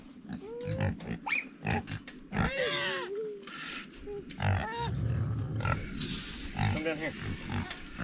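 Pigs on a cold-weather farm grunt and squeal repeatedly in their pig houses, close and lively, with people talking briefly over the animals.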